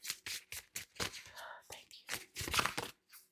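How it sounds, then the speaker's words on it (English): Several oracle card decks being shuffled, with repeated papery riffling and crinkling bursts in a quick, uneven rhythm, close and moderately quiet. "I'm going to go ahead and shuffle through all these decks"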